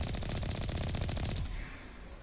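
Rapid automatic gunfire in Mass Effect Legendary Edition, a loud continuous burst of close shots that cuts off partway, leaving a fading echo.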